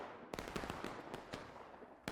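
Distant artillery fire in the Smoke and Steel multiplayer war game, several sharp booming shots at irregular intervals over a steady battlefield din, one louder blast at the end.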